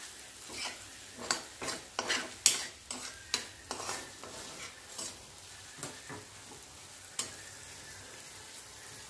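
Moong dal paste roasting in ghee over low heat is stirred with a utensil, giving a soft, steady sizzle broken by repeated sharp scraping strokes against the pan.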